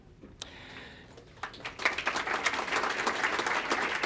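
Conference audience applauds the introduction of the Honorable Jane Philpott at an opening session in Ottawa, starting with scattered claps that swell into sustained, dense clapping from a large crowd.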